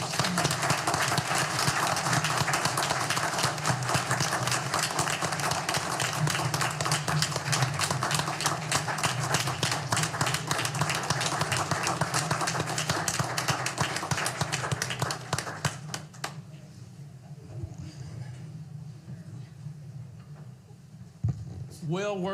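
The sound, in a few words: audience applause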